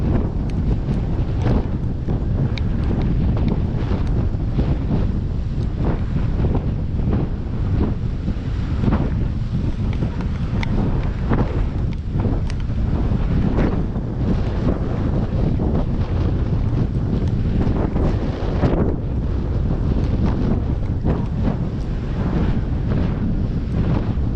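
Strong wind buffets the microphone in heavy, continuous rumbling gusts while sea fishing on the shore, with crashing surf mixed beneath the roar for the whole stretch.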